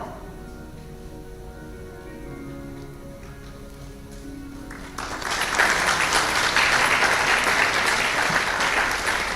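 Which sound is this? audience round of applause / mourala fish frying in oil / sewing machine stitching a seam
audience round of applause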